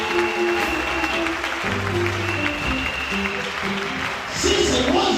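A congregation applauds during an Easter church service, a steady clapping wash blended with sustained musical tones and a speaking voice.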